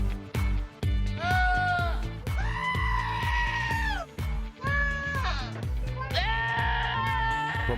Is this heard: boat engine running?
no